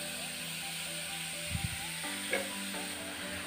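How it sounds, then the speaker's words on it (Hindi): Grated pumpkin frying in oil in a home kitchen, with a steady continuous sizzle throughout and a few brief stirring clatters midway. "और इसे हमें अभी थोड़ा टाइम तेल के साथ अच्छे से भुनना है, जैसे कि हमारा कद्दूकस किया हुआ कद्दू थोड़ा सा सॉफ्ट हो जाए।"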